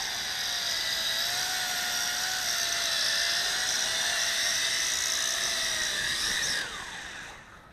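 A Helic Max Sky Vampire RC hexacopter, an X6 Tarantula clone, hovers close by with a loud, steady high-pitched whine, its pitch sliding as it comes down to land, then its motors spin down and fade out.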